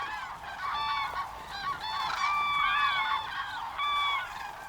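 Loud, honking trumpet-like calls from a large flock of cranes on the Baltic Sea coast, overlapping in bursts and repeating steadily without pause.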